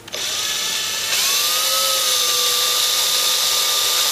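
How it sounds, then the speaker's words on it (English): A power drill with a hole saw cutting through plastic whines steadily at high speed, close and loud, its pitch shifting slightly as it bites into the material. "You don't want to drill real hard, and then this hole saw hit the plastic"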